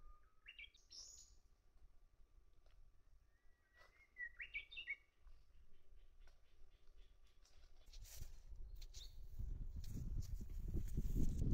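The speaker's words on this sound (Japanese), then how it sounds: "鳥の声、" Birds chirp and trill in short bursts, fairly clear at first, then a rising rush of broadband noise swells underneath and grows louder toward the end.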